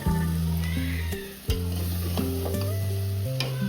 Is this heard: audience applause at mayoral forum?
no